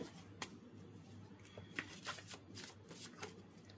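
Tarot cards shuffled and drawn from a deck, a soft papery riffle of scattered flicks and slides with a few sharper snaps, close and quiet with no talk.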